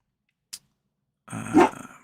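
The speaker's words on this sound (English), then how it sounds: "What are you barking at?" A dog barks and growls once in a short, loud burst at close range, after a faint isolated click and otherwise quiet room.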